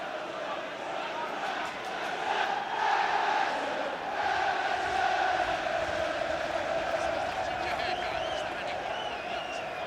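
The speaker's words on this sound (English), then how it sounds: "the crowd's trying to get Everton going" Football crowd at an Everton versus Reading FA Cup fifth-round match, a steady roar of chanting and shouting fans swelling and easing over several seconds, with a commentator's voice faintly over it.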